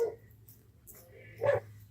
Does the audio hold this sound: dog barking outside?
yes